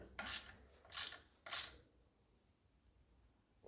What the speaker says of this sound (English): we'll get our half-inch socket on